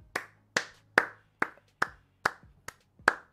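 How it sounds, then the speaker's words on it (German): Slow, measured hand clapping from one person, eight sharp claps spaced about half a second apart, close and fairly soft, with no voices during an awards closing ceremony. "Großen Dank und Riesenapplaus für David."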